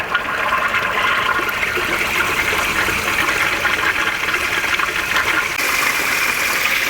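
A water pump runs through the venturi manifold of a rebuilt mineralization tank, producing a loud, continuous rushing, gurgling flow that holds steady throughout.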